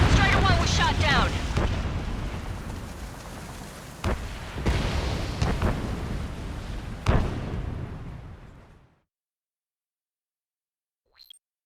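An aircraft is shot down in the video game Ace Combat 7, heard as a loud, sustained roaring explosion with several heavy booms inside it. The roar rumbles on and then cuts to near silence.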